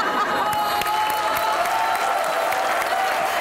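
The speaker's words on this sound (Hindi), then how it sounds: "लेकिन नुमान के लिए तालियां होनी चाहिए" Dense, continuous applause from a talk-show studio audience for Noman, loud and full throughout with faint cheering mixed in and no talking over it.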